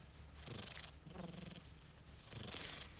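A contented cat purrs close up in soft, rhythmic cycles, each breath swelling and fading about once per second, faint and alone with no talking.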